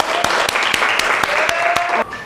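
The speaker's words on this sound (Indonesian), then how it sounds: "Tepuk tangan." A classroom of students claps together for a presentation, a short burst of close, fairly loud applause with distinct sharp claps over a steady patter, ending abruptly.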